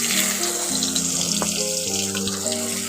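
Chopped onions sizzle and crackle in hot oil over tempered spices, a continuous frying hiss with faint clinks of a utensil stirring.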